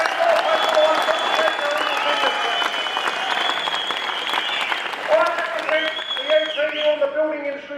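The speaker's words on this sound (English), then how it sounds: "he deserves another round of applause" Rally crowd of thousands of building workers in Melbourne bursts into sustained, dense applause that carries on for several seconds, with scattered shouts mixed in.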